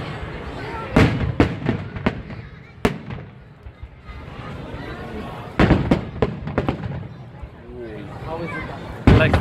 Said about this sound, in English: The best fireworks what I see.